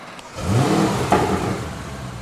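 A car engine with an aftermarket FX exhaust revs up with a deep, throaty exhaust note, steady and loud, holding a rough rumble throughout.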